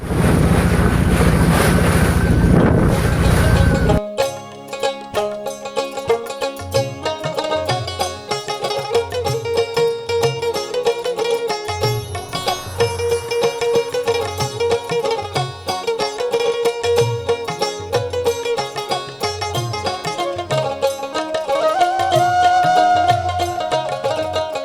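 A river boat chugs along steadily after a brief burst of wind buffeting, its engine throbbing in a continuous rhythmic pulse with water and wind noise, loud and close, no voices.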